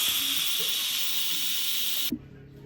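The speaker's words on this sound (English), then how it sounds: "Then you're gonna let the steam slow release for 10 minutes." Steam hisses steadily from an Instant Pot's pressure release valve after pressure cooking barbecue ribs, a loud continuous broadband rush that cuts off abruptly near the end, leaving quiet room tone.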